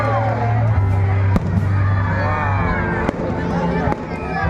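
Fireworks at a festival celebration go off as a few sharp, distant bangs scattered through a crowd's murmur, with a voice talking continuously over them.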